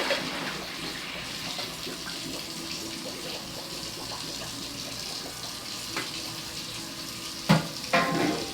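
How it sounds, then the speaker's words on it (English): Cold tap water runs steadily into a kitchen sink while cooked green beans are drained into a colander, a soft continuous splashing hiss with a couple of louder pours near the end. "the reason I'm running cold water at the same time when I pour that out"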